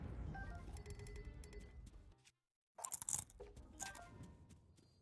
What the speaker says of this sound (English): Now his ghost bones are crunching.